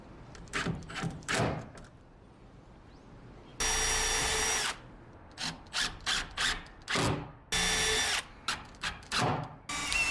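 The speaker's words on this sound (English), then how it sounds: "I like to pre-drill for the door hardware so nothing moves on me." Two steady bursts of a power drill pre-drilling into wood for shed door hardware, separated by knocks, scrapes and handling noises close by.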